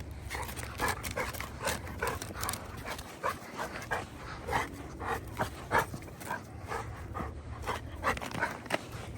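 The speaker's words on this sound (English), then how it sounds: "Are you a silly dog?" Rory the dog panting and shuffling about in snow outdoors, a steady run of close breathy pants and soft crunching movement with no talk.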